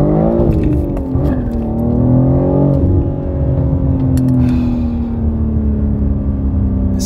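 Imola Red BMW G80 M3 fitted with AWE non-resonated mid-pipes, revving and accelerating hard in a pull from about 3,000 rpm, a loud close exhaust drone rising steadily in pitch with no talking over it.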